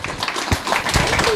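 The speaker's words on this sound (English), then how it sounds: "Big applause." An audience gathered for a Mysterium 2024 Myst documentary update breaks into loud, dense applause that fills the whole moment, with a few voices mixed into the clapping.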